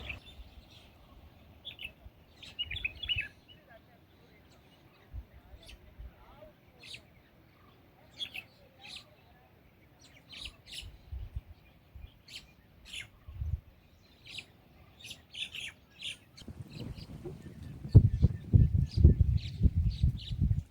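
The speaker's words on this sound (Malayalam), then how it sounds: "ധാരാളം പക്ഷികളെ കാണാം ഈ ഭാഗത്ത്" Scattered bird chirps and tweets repeat through the clip at Anayirankal Dam, fairly faint and distant, over low rumbling background noise that grows louder near the end.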